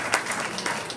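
Audience applause at a family reunion banquet: a brief, dense burst of many hands clapping, fairly loud and steady throughout.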